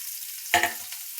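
Chopped onion and green chilli hit hot oil in a pan for quick poha, giving a brief, sharp sizzle burst that crackles for a moment and fades against a low background hiss.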